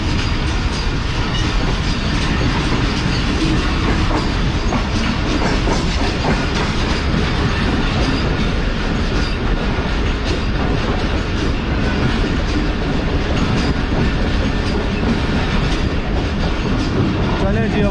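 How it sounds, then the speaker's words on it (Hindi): Karakoram Express running near Faisalabad in Pakistan under a 50 km/h caution, heard up close as a loud, unbroken roar of wheels and carriages with rhythmic clatter throughout. "हमारी पाकिस्तान की बेहतरीन ट्रेन कराकरम एक्सप्रेस 50 किलोमीटर के कौशन के साथ आगे बढ़ेंगे अब हम"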